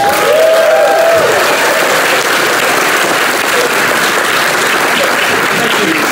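Loud sustained applause from a conference audience welcoming a keynote speaker, a steady dense wash of clapping that holds level throughout.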